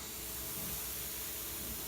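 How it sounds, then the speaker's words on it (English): A steady, loud hiss of a high-pressure sprayer washing a 1973 Corvette Stingray, spraying continuously with no breaks or voices. "Remember, this is a high pressure sprayer"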